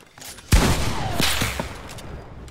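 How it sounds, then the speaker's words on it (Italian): Gunfire from a Fortnite match: a sharp, loud burst at the start gives way to a dense, rolling fusillade of shots that gradually fades, with no talking. "Qua sotto si stanno sparando."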